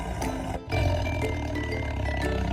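A tiger lets out a deep, rumbling roar that carries on for a couple of seconds, with a brief breath-like break near the start.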